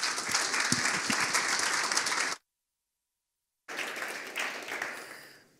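An audience applauds a speaker being welcomed on stage at a talk, steady dense clapping that breaks off briefly, then resumes and fades out.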